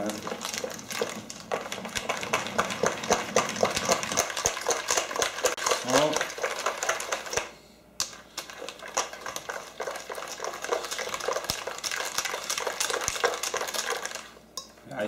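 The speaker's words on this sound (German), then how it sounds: "Dann wird das verrührt nochmal." A spoon or whisk clinks and scrapes rapidly against a bowl while pancake batter for Palatschinken is stirred. The rhythmic tapping runs nearly throughout, pausing briefly once, with a person talking over it.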